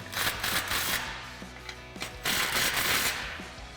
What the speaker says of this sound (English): Now I'm going to take my 14mm again on my 3/8 gun, tighten up this clamp here